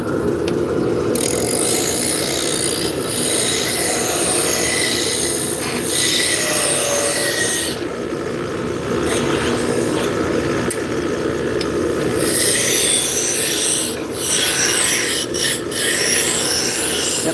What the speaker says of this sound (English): we are turning hard maple and we are making Turkish spindle shafts